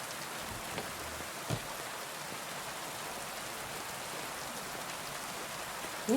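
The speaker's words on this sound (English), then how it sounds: "Man, is it raining." Rain in the video game Kingdom Come: Deliverance II, a steady soft hiss of rainfall on surfaces with a couple of faint thumps, ending with a brief tonal sound.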